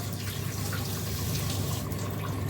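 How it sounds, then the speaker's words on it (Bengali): Water runs steadily as Bombay duck fish are washed, producing a continuous close splashing rush from the tap with no talking. "লোটে মাছটাকে জাস্ট ধুয়ে নিচ্ছি"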